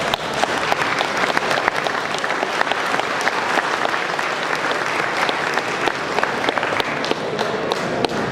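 An audience at a Cadillac LaSalle Club awards banquet applauds steadily after classic Cadillacs are announced, a dense, continuous roar of many clapping hands lasting several seconds at even, fairly loud volume.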